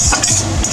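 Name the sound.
stirring cooked leafy greens (saag) in a pan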